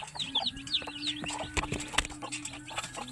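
Native chickens and small chicks cluck and peep in a rapid, busy stream close by, with a steady low hum running underneath throughout.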